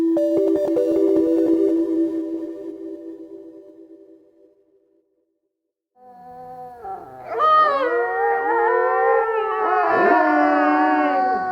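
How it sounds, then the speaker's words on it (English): A long, steady grey wolf howl fades into silence, then a chorus of rising and wavering grey wolf howls swells up, loud and overlapping. "what is the howl that we tend to hear? It's a grey wolf."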